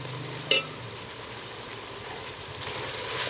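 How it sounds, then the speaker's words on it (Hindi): Mutton tripe (ojri) frying in oil with garam masala, a steady close sizzle with a brief sharp clatter of stirring near the start, no talk. "ओजरी को भूनते हुए 15 मिनट हो गए हैं मुझे।"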